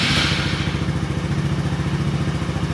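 Small single-cylinder engine of a Polaris RZR 170 side-by-side running after a carburetor replacement: a steady, even idle with a rapid regular putter and light mechanical clatter, close and continuous.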